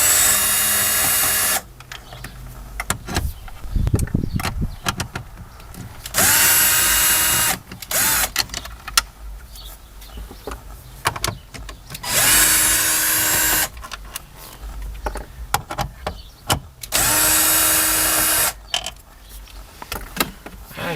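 Power drill spinning out screws from a Ford Explorer radio in the dash, repeated loud whirring bursts of one to two seconds with quieter handling noise and clicks between them.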